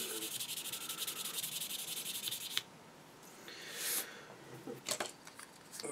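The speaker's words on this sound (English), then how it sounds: "Let's see if we've got anything a bit more violent and aggressive as a sander sitting on the bench." Sanding on the plastic parts of a Tamiya SU-76M model kit from the bench: a steady, raspy scrubbing that stops abruptly, followed by a few softer, scattered rubbing strokes, close and fairly quiet.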